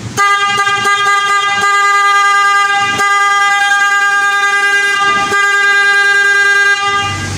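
A loud, sustained Yamaha R3 motorcycle horn blaring steadily for several seconds, with a few short toots at the start and brief clicks midway.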